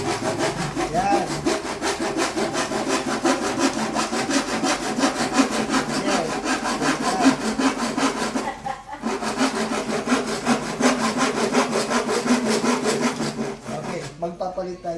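A carpenter cuts wood with a hand saw in steady, rapid back-and-forth rasping strokes that continue nearly nonstop, close and loud, with a brief pause partway through.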